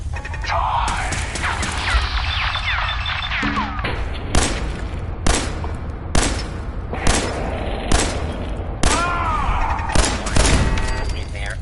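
Gunfire in Fallout 4 with bullets ricocheting: a run of sharp, loud shots at fairly even intervals, each a hard crack with a quick tail, over a steady bed of game noise and voices.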